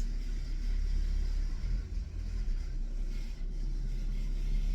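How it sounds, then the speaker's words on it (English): Heavy bass music from a car outside shakes sliding door blinds, making a continuous deep rumble that swells and dips slightly, with no one speaking. "the bass in that car was so heavy"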